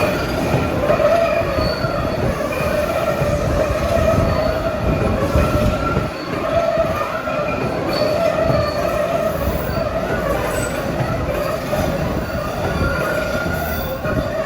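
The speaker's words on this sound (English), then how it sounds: "Comes a Bowdoin-bound train where there's a loop and the train just goes completely around" An MBTA Blue Line Siemens subway train runs around a turnaround loop, wheels squealing steadily over a dense rumble of rolling cars and track noise, loud and continuous throughout with no talking.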